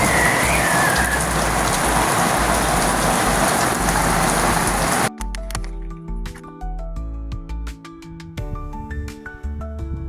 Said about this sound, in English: there's a thunderstorm come behind us, and I'm right on the top of Thornton Moor in Yorkshire